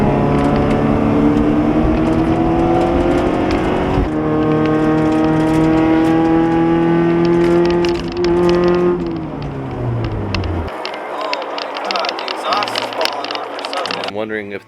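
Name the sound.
loud exhaust of B20 Civic Wagon AWD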